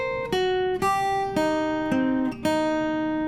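Slowed-down guitar lick from a song, played as a few clear, ringing single notes with slides between them, close and alone with no talking.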